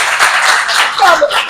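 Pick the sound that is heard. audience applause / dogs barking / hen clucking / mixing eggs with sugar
audience applause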